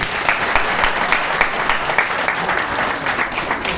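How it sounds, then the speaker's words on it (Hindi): Dense applause from an audience welcoming Mr. Narendra Singh Rathore, a company's first ID, at a Proveda India gathering; steady, loud clapping fills the room continuously without pause. "हम सभी मिलके हमारे गार्जियन और हमारी कंपनी के first ID mister Narendra Singh Rathore का एक जोरदार ताली से स्वागत करें"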